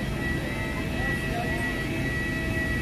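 An airplane cabin fills with a constant loud engine drone, steady and unbroken throughout.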